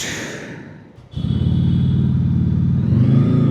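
A touring motorcycle, ridden through the monsoon rain, fires up after a brief pause and settles into a steady, loud, throbbing idle that swells slightly as it is revved, close by with no talk.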